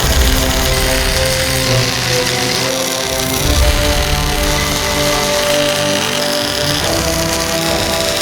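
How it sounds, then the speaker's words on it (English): Welding on a homemade Viking axe, heard as a loud, continuous buzzing crackle with harsh metallic tones layered through it. The noise holds steady for the whole stretch, close by. "Time to weld this thing together."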